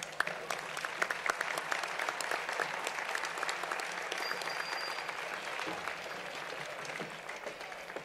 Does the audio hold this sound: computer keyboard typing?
no